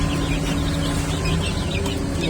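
Chickens about 45 days old cluck and squawk while fighting, giving close, busy clucking calls over a short span with no talking.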